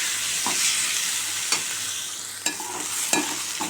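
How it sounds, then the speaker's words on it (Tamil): Egg and ivy gourd stir-fry sizzles in a pan while a spoon scrapes and stirs, with several distinct clacks against the metal over a steady frying hiss. "முட்டையை உடச்சி ஊற்றி நல்லா கிண்டிட்டு"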